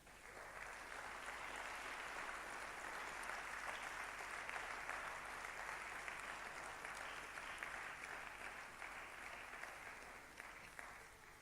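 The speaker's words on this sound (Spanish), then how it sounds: "Le pido un aplauso para Jesús" Sustained applause from a church congregation at a pastor's sermon, a steady dense wash of clapping holding evenly for about eleven seconds before easing slightly at the end.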